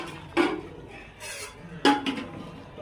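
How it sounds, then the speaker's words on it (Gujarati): A spoon scrapes the bottom of a pot of Kathiyawadi khichdi in two distinct, close stirring strokes with quieter shuffling between them. "પેલા હલાઈ લઈશું તળિયેથી."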